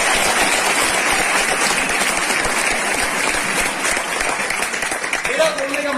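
A training seminar audience breaks into loud, sustained applause, dense clapping filling the room for several seconds while a voice speaks over it near the end.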